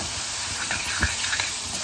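Onion, coconut, coriander, chili and garlic frying in hot oil, a steady close sizzle and hiss with a few faint stirring clicks, no voices.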